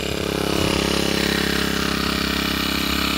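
A small engine-powered crop spraying tank runs steadily with a continuous droning motor hum, close and fairly loud, used for spraying wheat against disease in a field.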